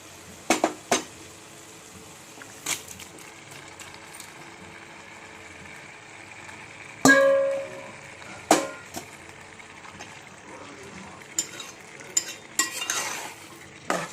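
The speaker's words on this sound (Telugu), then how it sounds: "ముక్కలన్నీ ఒకసారి ఇందులో అంతా కలిసేటట్టు మొత్తం మిక్స్ చేసేసుకోండి." Chicken pieces are stirred into hot oil in a metal pan, with scattered clanks and scrapes of a spoon against the pan over a faint sizzle, including a sharp loud clang midway.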